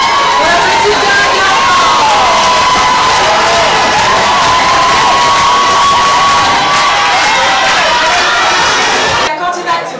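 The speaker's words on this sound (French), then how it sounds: "On l'applaudit bien fort." Loud crowd at a Miss East Africa 2015 pageant evening cheering and applauding a contestant, with shouts, whoops and dense clapping blending into a roaring wall of sound that cuts off abruptly at the end.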